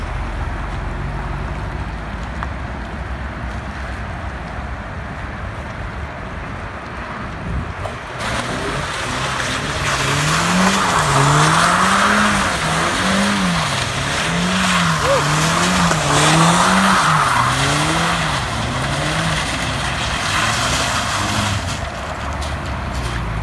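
Saleen car doing donuts on a wet surface, with loud engine roar rising as rhythmic, wavering tire squeal sweeps around in repeated circles.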